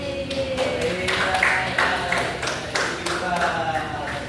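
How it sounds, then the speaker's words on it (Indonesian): A classroom of students clapping for a classmate, a ragged burst of hand claps at moderate distance mixed with chatter and voices throughout. "Tepuk tangan untuk Paris"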